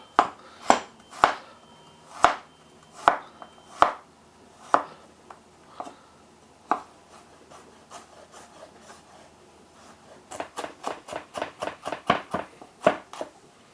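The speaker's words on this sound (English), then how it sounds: "And then slice it up." A knife slices an aubergine on a chopping board in a run of crisp, evenly spaced cuts, a short pause, then a quicker burst of chops near the end.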